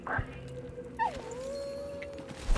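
A dog in the video game Enshrouded gives a thin, drawn-out whimper lasting a couple of seconds, close and fairly quiet over low ambient game sound, with brief yips at the edges.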